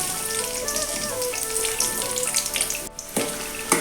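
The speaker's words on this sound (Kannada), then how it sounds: "ಎಣ್ಣೆ ಕಾದ ನಂತರ ಈರುಳ್ಳಿ ಹಾಕಬೇಕು" Onion frying in hot coconut oil, a dense crackling sizzle that holds steady and close, with a brief dip before the spitting resumes.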